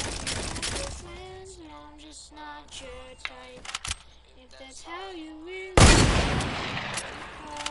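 Video game gunfire from a pump shotgun and a hunting rifle, with sharp shots cutting through a voice and a loud blast near the end followed by a noisy burst.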